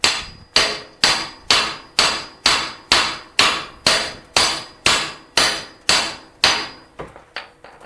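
Steel hammer blows on the ball joint of a 1997 GMC Jimmy during ball joint replacement: about a dozen loud, ringing metallic strikes at a steady, even rhythm, each decaying before the next, with no voices.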